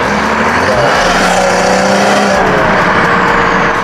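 A loud 2017 BMW 540i sports sedan's B58 engine growls and revs up nearby, its throaty exhaust note rising and holding steady throughout.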